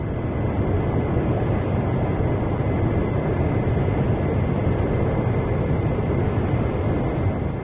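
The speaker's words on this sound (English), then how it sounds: "Let's move the throttle to the maximum and take off." An airplane engine runs at full throttle for takeoff in a flight simulator game, a loud, steady, unbroken drone that holds at one level throughout with no talking.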